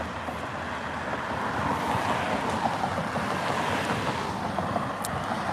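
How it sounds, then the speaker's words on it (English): Cars pass along a street outdoors, a steady broadband traffic rumble with a slow swell in the middle, heard alone with some wind buffeting on the microphone. "It's really loud here because there's some cars going by."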